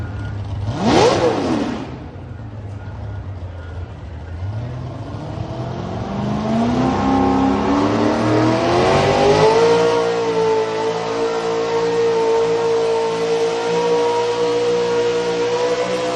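A pulling truck called Hell's Coming revs hard at a West Coast truck pull event in Tres Pinos, its engine note climbing over several seconds, then settling into a loud, steady roar with no talk.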